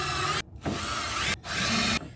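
A power drill drives screws into wood, with three close bursts of whirring, each lasting roughly a second and separated by brief silences.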